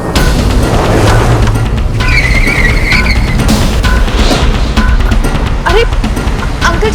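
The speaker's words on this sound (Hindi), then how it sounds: "फिर उसने अचानक एक सुनसान इलाके की तरफ गाड़ी मोड़ दी।" A car's engine rumbles steadily and loudly as the vehicle turns suddenly toward a deserted area, with a brief tyre-skid whine and scattered clunks over the continuous drone.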